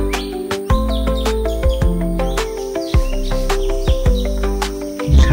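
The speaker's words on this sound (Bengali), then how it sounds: "সাতছড়ি টাওয়ার থেকে অনেক প্রজাতির পাখি দেখতে পাওয়া যায়" Birds call in the forest of Satchari National Park, heard from an observation tower: repeated sharp chirps and whistles sound close and loud over a low, steady background hum.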